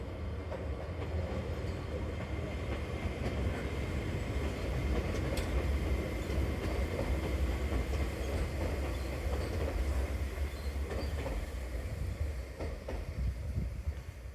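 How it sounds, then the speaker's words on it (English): A train crossing a small overpass near Enoshima, Japan: steady, loud rumbling of wheels on rails with faint clicking and occasional metallic squeals, continuous for the whole stretch, no talk. "we got this great shot of the train going over this little overpass"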